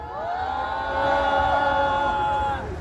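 A crowd at a peace rally against war and troop deployment cheers with sustained, voice-like roars for a singer, loud and steady for nearly three seconds, swelling slightly in the middle.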